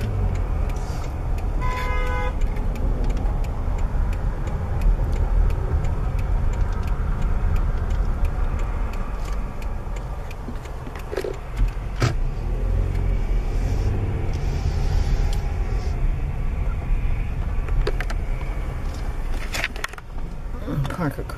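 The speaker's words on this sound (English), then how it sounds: "There's a sand truck, that's the cutout truck there." Heavy sand truck driving past a fracking site across the road from homes, a loud rumbling engine with road noise and a brief horn toot, under someone talking throughout.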